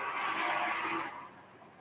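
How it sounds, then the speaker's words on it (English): Traffic passing outside an open door, a broad whooshing rush of vehicles that swells and then fades away within two seconds, moderately distant and with no talk. "trucks driving by"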